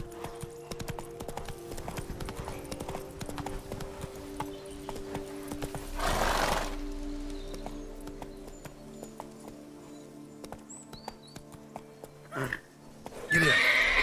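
In the video game Witcher 3, a horse's hooves clip-clop in a steady galloping rhythm, followed by a brief whoosh and a sharp whinny near the end, all fairly close with no talking.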